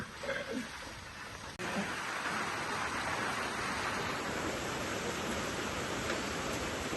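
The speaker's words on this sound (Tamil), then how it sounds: "மழை மழை மழை" Rain falling steadily outdoors, a broad, even hiss that holds constant for several seconds after a brief quieter start, with wind rising along with the downpour.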